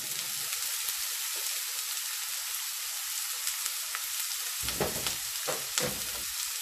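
Onion frying in two spoonfuls of oil in a pan for a bolognese lasagne sauce gives a steady, fairly quiet sizzle, with a few stirring scrapes near the end.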